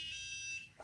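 NuFACE microcurrent facial toning device giving a steady electronic beep as it powers on, a single close, clear tone lasting most of a second before cutting off.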